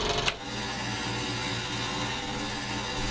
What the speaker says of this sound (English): I'm going to use my scroll saw to cut out this arc